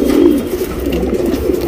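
A top-class tournament racing pigeon gives a low, throaty coo that swells briefly and then rumbles on softly, close and fairly loud with no talking over it.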